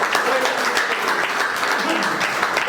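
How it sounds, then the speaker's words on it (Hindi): Applause for a woman at a field leaders' meeting, a dense burst of clapping from a gathered group, loud and steady for a few seconds. "पर उनके लिए भी जोरदार तालियां मैडम के लिए"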